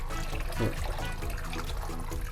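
Running water rinses salt off sea bass, a steady close splashing stream with a brief louder gush partway through.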